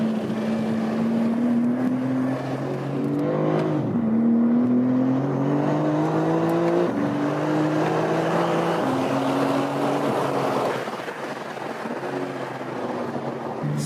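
A 2024 Porsche 911 GT3 RS exhaust howls through track day laps, loud and close, with rising gear pulls, brief lifts around the shifts and steady high revs, no talking.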